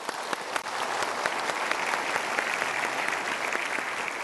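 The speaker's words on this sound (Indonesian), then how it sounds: "Sekarang kita berikan tepuk tangan dulu" A large audience applauds loudly and continuously, a dense wash of claps that keeps going without a break.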